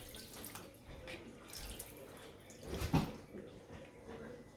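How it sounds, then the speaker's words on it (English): Raw pork chops being rinsed by hand in lime juice and water, a soft steady splashing and trickling with a louder slosh near the end, close by and fairly quiet. "So I'm washing with some lime juice now."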